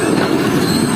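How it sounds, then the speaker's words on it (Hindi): A passenger train pulls into a dark railway station at night in dense winter fog, its wheels rumbling and squealing on the rails in a loud, steady roar with no voices over it. "ट्रेन हमारी जो है वो भैया रोड रेलवे स्टेशन पर अप्रोच बना रही है"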